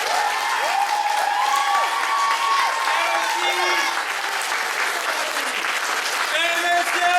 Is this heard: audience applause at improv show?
yes